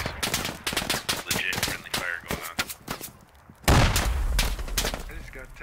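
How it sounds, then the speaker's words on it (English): Rapid bursts and single shots of gunfire crackle in the military shooter game Squad. The volleys are uneven, then a heavier, louder barrage lands near the end, with voices faintly underneath. "so it's probably some legit friendly fire going on."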